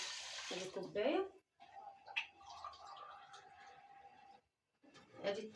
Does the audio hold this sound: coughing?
no